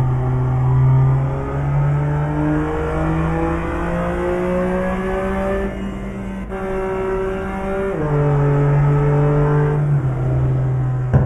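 A BMW engine in Euro Truck Simulator 2 revs steadily and loudly, a sustained harmonic drone that rises through the gears, dips in pitch at each shift and climbs again, with no talk over it.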